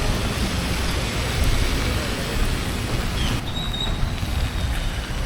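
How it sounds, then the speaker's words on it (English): Sudden heavy rain pours outdoors in Tulum, a steady, dense hiss of downpour that stays loud and unbroken throughout, with no voices. "now I have to get out of the rain because it is really raining out all of a sudden."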